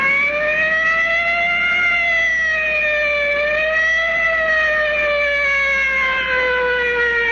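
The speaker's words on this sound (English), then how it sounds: "I can hear the wail of the siren of our fire department inlater squad rolling" A fire department inhalator squad's siren wails steadily in a long rising and falling tone, loud and continuous, heard from a distance without speech.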